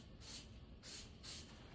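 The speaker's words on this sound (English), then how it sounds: "And I just spray it on the inside here." Tire lubricant is sprayed onto the inside of a motocross dirt bike tire with an inner tube, in three short, soft hissing bursts at an even pace against quiet room noise.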